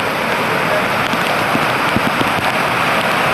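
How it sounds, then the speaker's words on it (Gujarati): Heavy rain pours steadily on Pavagadh hill, a dense hiss of drops with occasional sharper splats on nearby surfaces, no voices. "પાવાગઢમાં અત્યારે ધોધમાર વરસાદ પડે"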